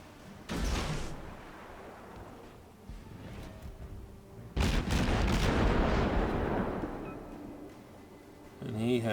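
Heavy booming salvos of warship guns in the World of Warships game, two loud blasts a few seconds apart, each followed by a long rolling decay of rumble.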